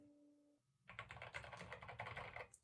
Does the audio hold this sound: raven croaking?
no